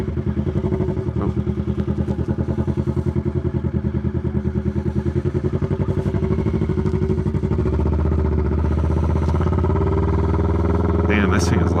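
A Kawasaki Ninja 650 motorcycle engine thrums loudly and close while riding, its steady pulsing growing into a smoother, denser drone partway through, with the rider speaking over it.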